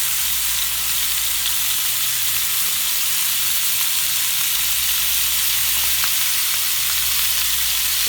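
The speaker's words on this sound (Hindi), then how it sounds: "अब ऑयल ऑलमोस्ट गर्म हो चुका है। हम वन बाय वन करके इनको रखते हैं।" Chicken shashlik sticks frying in hot oil give off a loud, steady, close sizzle with a dense hiss that holds unbroken throughout.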